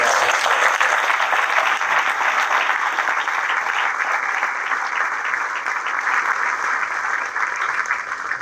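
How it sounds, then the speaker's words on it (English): A crowd applauds the soldiers on the field at a SETAF-AF military change of command ceremony in Italy, with loud, sustained clapping that continues evenly throughout. "Let's give a round of applause again to all the soldiers on the field."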